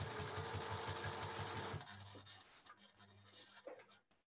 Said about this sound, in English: Okay, so start stitching.